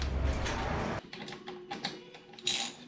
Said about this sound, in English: So you take your wrench and you remove that bolt.